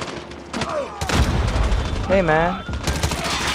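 QK9 submachine gun fire in COD Mobile's 10v10 domination mode, sharp bursts crackling near and loud, mixed with other gunfire and someone talking over it.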